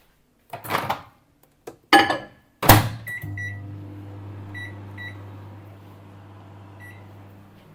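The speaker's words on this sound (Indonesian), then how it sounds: "aku panasin susu dulu guys" A microwave heating milk in a home kitchen: a few clicks and knocks as the door shuts and buttons are pressed, then a soft steady hum that runs on alone, with faint beeps over it.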